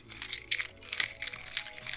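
Heavy armor in Stardew Valley clinks in quick metallic jingles with each movement, several bright, close bursts in a short irregular rhythm.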